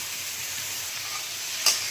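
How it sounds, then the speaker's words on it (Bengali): Chopped capsicum and onion for chilli chicken sizzle steadily in a hot pan, a close, even hiss with a brief sharp clink from the utensil near the end. "তারপর দিয়ে দিচ্ছি ক্যাপসিকাম কুচি, এটাকেও একটু ভালো করে আধো আধো ভাজা ভাজা করব"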